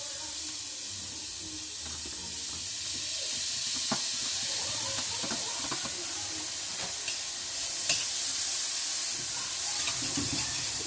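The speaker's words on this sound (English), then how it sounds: "While this is roasting, we'll also add in some coconut from Goa." Goan coconut roasting in a pan with mutton curry spices, a steady low sizzle and hiss with scattered light crackles and stirring scrapes, no talking.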